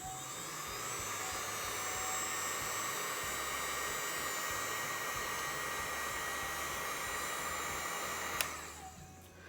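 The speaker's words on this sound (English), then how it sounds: "I'm going to blast it quickly with the heat gun." A heat gun blows a steady whooshing hum across freshly poured mica-tinted resin, running continuously at close range before a sharp click near the end cuts it off, leaving only a faint fading whir.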